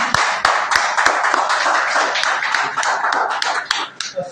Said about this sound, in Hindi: तो आपकी भरपूर तालियों में